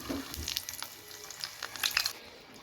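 Olives sizzle as they are slid into hot oil seasoned with five-spice for an Assamese olive pickle, a fizzy crackle rising in bursts and settling, close by with no talking.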